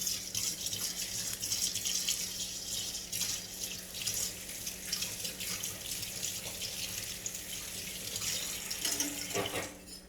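Water runs steadily from a kitchen tap as something is rinsed off during pasta cooking, a continuous close splashing hiss for about ten seconds with a brief change near the end.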